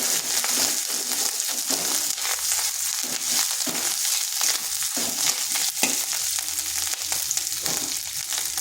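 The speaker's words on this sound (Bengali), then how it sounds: "এটাকে একটু নেড়ে নিচ্ছি যাতে আদার কাঁচা গন্ধটা চলে যায়" Ginger and fennel spices fried and stirred in a pan for a bean and potato dish, giving a steady loud sizzle with scraping strokes throughout, close and continuous.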